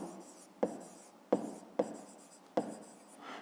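A pen scratches across paper in short strokes, with several distinct taps and scrapes in an uneven rhythm, quiet and close in a still room.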